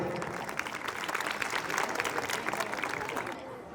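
A crowd at a Vishwakarma Jayanti celebration claps continuously, a dense, fairly distant wash of applause with voices murmuring underneath.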